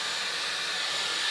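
A Dyson Airwrap hair styler runs steadily on its second heat setting, giving a loud, even airy whoosh and hiss close by with no talking.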